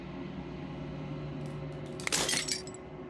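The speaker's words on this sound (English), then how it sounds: "As the final fragment of glass shatters" Glass shatters in Slay the Princess, a single bright crash of breaking fragments with tinkling debris, rising out of a quiet low hum and fading within about half a second.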